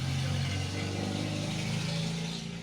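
A car passing close by, a continuous engine drone with a low steady hum that slowly fades slightly near the end, heard alone without talk.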